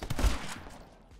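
A brief burst of video game gunfire in My Friend Pedro, a few quick shotgun blasts, fairly quiet and fading out within a second.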